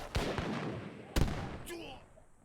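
Cannon and falconet fire from a real-time strategy battle, heard as two heavy booming shots about a second apart with rolling decay, followed by a faint whistling tail.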